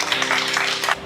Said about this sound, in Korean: 알겠습니다. 박수해주세요.